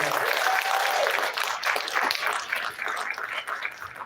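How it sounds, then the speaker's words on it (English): A crowd applauds a speaker at a live podcast event, with dense, steady clapping that eases slightly toward the end, and a few voices and cheers mixed in. "Give him a round of applause."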